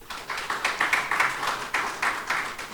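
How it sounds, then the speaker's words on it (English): A small group at a power sector conference claps for a couple of seconds, the claps uneven and fairly close, without cheering. "A round of applause for all of them, please."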